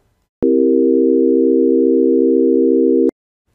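A C dominant seventh chord in equal temperament is played as steady pure tones, held alone and loud for nearly three seconds with clear pulsing beats between the notes.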